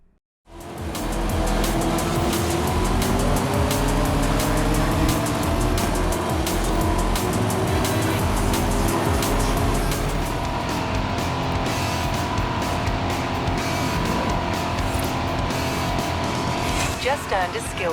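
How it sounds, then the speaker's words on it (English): Car engine in the Forza Horizon 5 racing game, a steady loud roar with shifting revs and occasional tire squeal, driving through a town, with a voice talking over it throughout. "the sound of your car driving through a town might sound crisp and loud"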